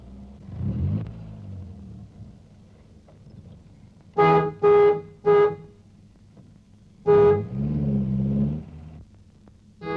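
A car horn honks a short rhythmic tune, three quick toots then a longer blast, over a low engine rumble.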